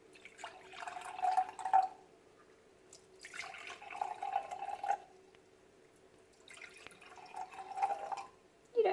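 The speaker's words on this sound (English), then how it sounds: "We're going to drop some water," Water is poured into a row of four containers in three separate bursts of trickling and dripping, each lasting about a second or two, with quiet pauses between over a faint steady hum.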